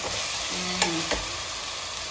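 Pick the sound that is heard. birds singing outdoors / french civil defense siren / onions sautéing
onions sautéing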